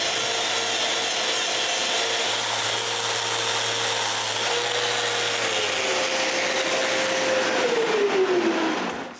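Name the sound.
handsaw cutting wooden bandsaw base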